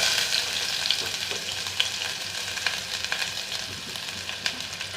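Sliced onion frying in hot refined oil in a fresh pan, a steady close crackling sizzle with sharper pops scattered through, no voices.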